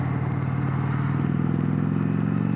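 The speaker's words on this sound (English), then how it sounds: "Once again, engine braking, absolutely fantastic." An Indian Roadmaster Dark Horse motorcycle with a 116 engine engine-brakes while carrying a passenger, giving a steady, loud low drone and burble with road noise and no talk.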